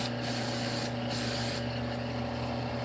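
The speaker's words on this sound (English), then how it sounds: "And then my Satellite City accelerator spray." Satellite City accelerator spray hisses from an aerosol can in short bursts, close and alone, with brief pauses between sprays during spinning-top making.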